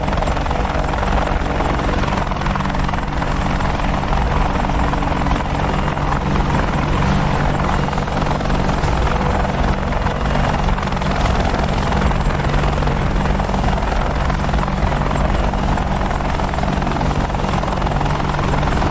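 Steady, continuous rotor drone and turbine whine of an AH-64D Apache attack helicopter in DCS World with desert livery, a loud unbroken hum with layered low tones throughout, no talking.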